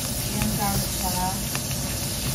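Garlic frying in olive oil gives a continuous hiss and sizzle, close and moderately loud, with a voice speaking briefly over it.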